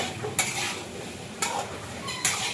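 Paneer filling for puffs is sautéed in a pan, giving a soft, steady sizzle with three sharp scrapes of a spoon stirring against the pan, and no one talking.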